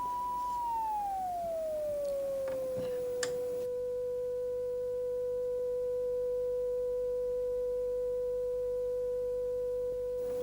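A signal generator holds a steady pure tone that glides down slightly in pitch over the first few seconds, then stays constant and unwavering at moderate level, alone with no talking.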